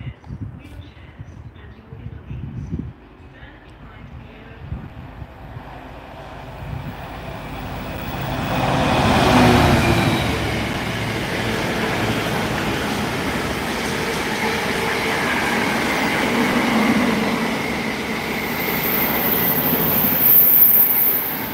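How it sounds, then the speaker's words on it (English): Freight train passing through Rugeley Trent Valley station, a rumble swelling from quiet to a loud sustained roar of wagons rolling close by, with faint wheel squeal high above. "Ah, here comes the freight."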